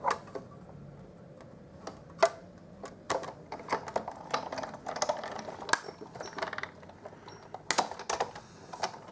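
A die-cutting machine cuts a stitched framelit shape from cardstock, giving a close run of uneven clicks, ticks and crunches with a few louder snaps, no talking.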